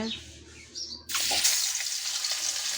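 Fish drops into hot oil, and after a quiet start a sudden loud burst of spattering sizzle takes over and keeps crackling close and bright to the end.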